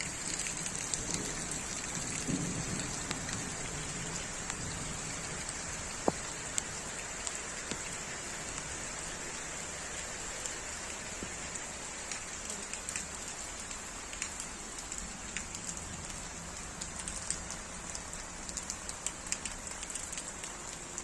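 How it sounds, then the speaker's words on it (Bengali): Steady rain falls on surfaces outdoors, a dense continuous patter lasting throughout with occasional sharper, louder drops close by. "বৃষ্টি আর বৃষ্টি, আমার কাছে বৃষ্টিতে ভিজতে ভালো লাগে"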